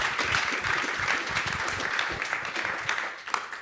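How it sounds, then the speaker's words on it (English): A crowd at an annual general meeting gives a round of applause for a panel, a steady and fairly faint wash of clapping that fades toward the end. "another round of applause for Ghazi and Omar."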